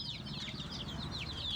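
A chicken that had been ill with a snoring respiratory disease clucks steadily in a repeated, fairly close rhythm of short calls over a low background hum.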